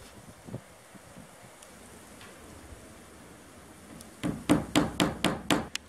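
Hammer blows drive nails into a roof ridge cap over corrugated metal sheeting in a workshop, about seven sharp, loud strikes in quick succession near the end, after a stretch of quiet background with a single faint knock early on.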